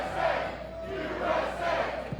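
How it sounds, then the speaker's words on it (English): A crowd at the Big Buck Hunter World Championship chants "USA" in a rhythmic, repeated call, fairly distant and moderately loud, swelling and dipping across the short stretch. "Can we get a USA chant started to the crowd?"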